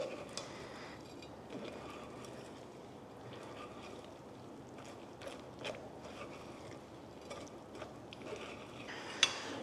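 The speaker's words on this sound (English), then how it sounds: "Keep stirring it until you get all the liquid out and you're left with just a real pulpy" Chili pulp is stirred and pressed against a sieve to extract its liquid for homemade hot sauce, making a quiet, continuous wet scraping with scattered soft knocks and a sharper clink near the end, with no talking.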